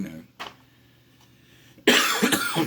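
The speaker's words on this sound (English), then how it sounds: "forgive me for coughing" A sharp cough, then a louder burst of harsh coughing close to the microphone.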